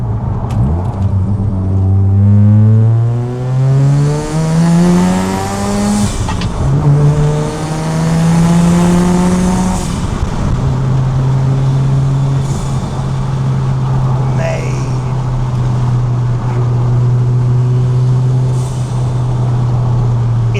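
A 480 BHP Mazda RX-7 driven hard, its engine loud and close, revving up through rising pitch sweeps with brief drops between gear changes, then settling into a steady high drone.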